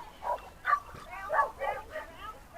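A Cocker Spaniel at an agility nationals event lets out a string of short, sharp barks and yips in quick irregular bursts, fairly faint, mixed with background voices.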